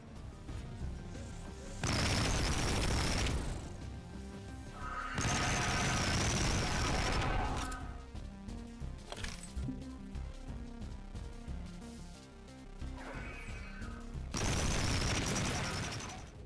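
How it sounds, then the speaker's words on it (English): Weapon fire from the indie first-person shooter Project Warlock comes in loud, dense bursts with sharp impacts and crashes, separated by quieter stretches of game sound, with no talking. "When you are not exploring, you will be enjoying the satisfying shooting."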